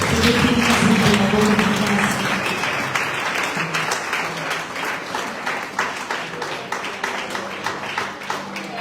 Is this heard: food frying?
no